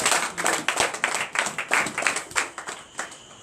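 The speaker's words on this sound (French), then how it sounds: "Donnez une acclamation." A church congregation applauds at a deliverance and prophecy night service, with dense, uneven clapping from many hands that stays fairly close and loud throughout without any voices over it.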